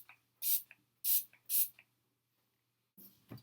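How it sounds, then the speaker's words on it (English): Urban Decay All Nighter makeup setting spray fires three quick, close hissing bursts in a row, followed after a pause by a softer puff, with no voices. "This is the Urban Decay All Nighter Makeup Spray."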